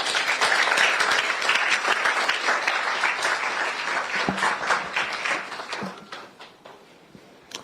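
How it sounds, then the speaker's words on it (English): An audience at an event applauds, dense clapping that starts full and gradually thins out, ending in a few scattered claps. "I do not like the way you people are applauding."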